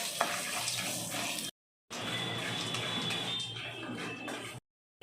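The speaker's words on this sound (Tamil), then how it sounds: "வறுத்த கடலக்காய் போட்டுக்கலாம். லைட்டாக மஞ்சள் போட்டுக்கலாம். இது எல்லாமே நல்லா வறுத்துக்கலாம்." Peanuts and turmeric roast in a pan for a puffed-rice masala snack, producing a scratchy, crackling stir-fry noise at close range, broken by two brief silent gaps.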